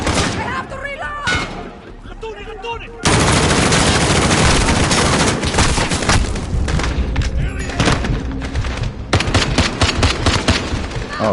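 Loud, sustained automatic gunfire and heavy thuds in a military shooter game, dense bursts running almost continuously, with game voices shouting orders beneath the clatter.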